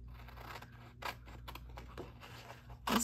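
Scissors trimming around a paper cutout for a zoo-themed craft layout, a few scattered snips and paper rustles against a steady faint background hum, with a louder snip at the end.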